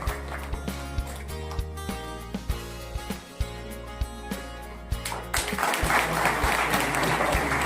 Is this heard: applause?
yes